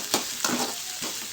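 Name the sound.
frying ingredients in oil for dried fish curry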